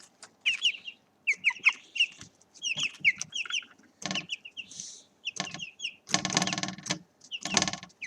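Chickens, hens raised for meat, cluck and chirp in a busy run of short calls, with a couple of louder, harsher squawks near the end; close and fairly clear, with no talking.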